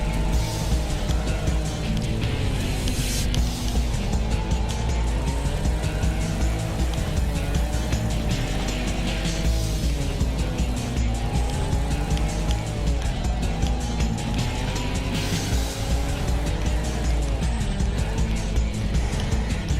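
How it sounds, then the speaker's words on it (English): A race car engine in a racing video game drones continuously at high revs, its pitch rising and falling as gears shift and speed changes, loud and steady throughout with no talk over it. "I could still hear this man's engine"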